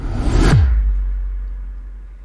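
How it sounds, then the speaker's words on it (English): A cinematic whoosh effect sweeps in fast and loud, peaking around half a second with a bright rushing burst that drops into a deep low rumble, which trails off slowly over the next two seconds. "Cinematic whoosh."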